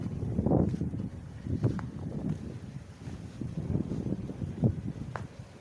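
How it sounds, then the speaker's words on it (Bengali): Cold wind blowing across a rooftop on a wintry day, buffeting the microphone in low, uneven rumbling gusts that swell and fade over several seconds, close and fairly loud. "ছাদে ঠান্ডা বাতাস আজকে একদম শীতের দিন বানিয়ে দিচ্ছে বাতাস"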